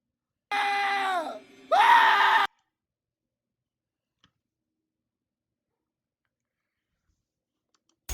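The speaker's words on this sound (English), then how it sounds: "Okay, he's screaming." Two loud, high-pitched animated character screams from a horror cartoon, the second rising and sustained, then near silence with a tiny click.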